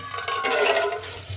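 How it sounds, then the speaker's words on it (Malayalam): Water is poured out after washing hands, a brief close gushing splash that swells and then tapers off. "കുറച്ച് വെള്ളം ഒഴിച്ചു"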